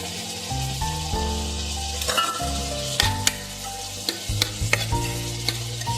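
Chopped tomatoes and onions sizzle in a hot pan for a Gujarati dal baati meal while a spoon stirs them, scraping and clinking against the metal in uneven strokes over a steady frying hiss.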